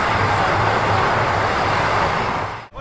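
Dhauli Express passenger train running from inside a 2S coach, a steady loud rumble and rolling roar with a low hum, briefly dropping away at the very end.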